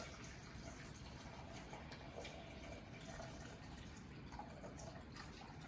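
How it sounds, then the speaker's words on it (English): Very hot water poured over strips of newspaper in a bowl to make paper clay, a faint steady splashing fill lasting several seconds with no voices. "take very hot water and cover that paper in it fully"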